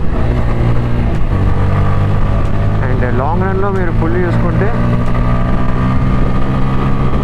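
Steady engine drone from a Bajaj Pulsar N160 motorcycle while riding, with slight vibration, wind noise, someone talking over it throughout.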